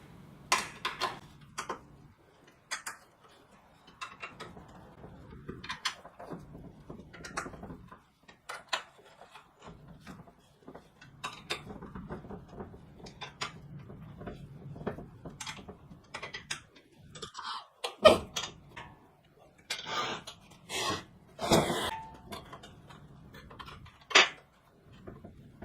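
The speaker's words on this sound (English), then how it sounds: "go ahead and tighten up all your bolts." While a gas forge is being built, scattered close metallic clinks and taps from bolts being tightened ring out at irregular intervals, separated by quiet stretches of handling noise, with no talk.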